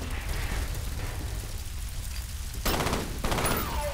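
Gunfire bursts in the shooter video game F.E.A.R., a steady loud crackle of shots throughout with two sharper, louder volleys near the end.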